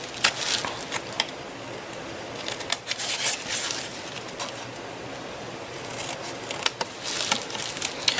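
Scissors snip repeatedly through paper for a handmade gift book, close and crisp, a steady run of sharp cuts with brief pauses and no talking.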